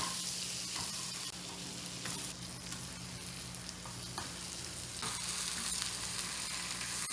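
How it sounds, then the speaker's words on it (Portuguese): Plantain grilling in butter in a pan, a close, steady frying sizzle with a few soft scrapes and clicks of a utensil, with no talking. "Então eu vou grelhar a banana aqui na manteiga"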